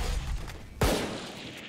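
Gunfire in the tactical shooter Valorant, with one sharp loud shot cracking out partway through over quieter game ambience and a fading tail.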